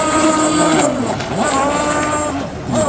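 Model racing catamaran power boats roar at Cowes, Isle of Wight, as one crosses the finish, a loud continuous high engine whine with shifting pitch as it passes close.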